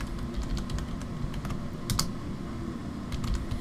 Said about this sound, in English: I hear somebody typing on Discord.